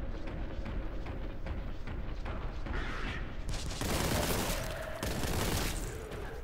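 Heavy bolter firing in the Warhammer: Boltgun video game, a loud sustained fusillade of rapid heavy shots that builds into a dense, booming burst of gunfire in the second half.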